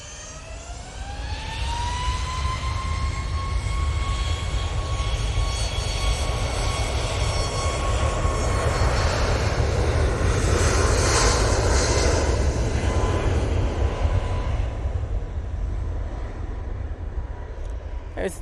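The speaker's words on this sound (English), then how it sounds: "There's the TUI 737 MAX off to Santorini. Or Skiathos, sorry." TUI Boeing 737 MAX jet taking off from Manchester Airport toward Skiathos, a loud sustained engine roar with a rising whine that swells, peaks and holds, heard up close.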